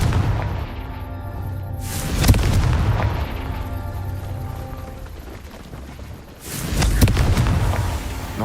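The Confringo explosion spell from Hogwarts Legacy bursts twice, a loud booming blast near the start and another after a few seconds, each trailing off into a rumbling decay.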